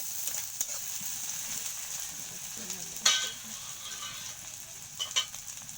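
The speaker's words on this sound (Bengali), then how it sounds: "পেঁয়াজ কুচি আর মরিচগুলো দিয়ে নিয়ে হালকা আঁচে নেড়ে নেব" Chopped onions and chilies sizzle gently over low heat in a pan on a clay stove, a soft steady hiss broken by a few scraping stirs.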